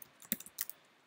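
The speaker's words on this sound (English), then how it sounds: "let's go ahead and type that out" Quick keystrokes on a computer keyboard as code is typed, a short irregular burst of about eight clicks with brief pauses, close and fairly quiet with no talking.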